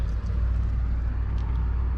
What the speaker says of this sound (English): Car behind us.